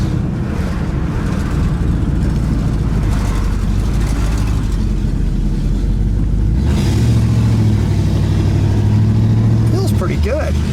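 A 1964 Pontiac Bonneville Grand Marque IV convertible's engine rumbles steadily while driving, a loud low drone that shifts to a deeper, heavier tone partway through, with a brief higher sweep near the end.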